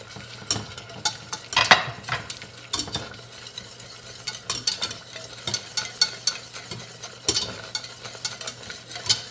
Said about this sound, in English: I continue to add some more of the broth and to whisk it so I don't have any lumps